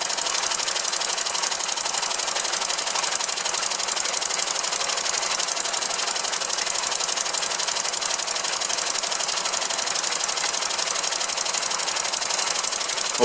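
A small hand-built 1912 oscillating engine on a wooden base runs steadily, giving a fast, even mechanical chatter that stays constant and close for the whole stretch.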